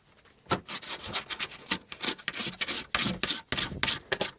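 An old Stanley blade scrapes filler along a handmade wooden skirting board in a series of quick, close, rasping strokes with short gaps between them, and no one speaks.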